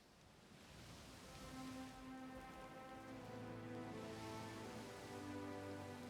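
A video game storm while sailing hisses with steady heavy rain, a constant wash of noise with low tonal hums layered underneath, loud and continuous with no talking.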